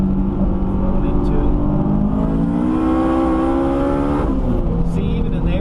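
A 460 horsepower turbocharged car with an open dump tube pulls hard in third gear, its engine note climbing steadily with a whistling turbo on top and a sudden change near the end, while someone talks over it.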